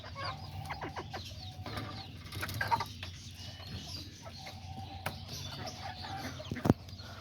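Hens in a pen cluck and murmur with a young rooster among them, soft scattered clucks over low background noise, faint and close, with one sharper squawk near the end.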